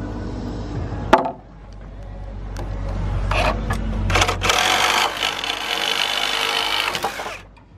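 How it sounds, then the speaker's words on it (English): A reciprocating saw with carbide teeth cuts through a wooden wall-framing splice joint: a sharp knock opens, then a rough, rapid buzzing rasp runs in uneven bursts up close. "those carbide teeth on the sawzall is where it's at"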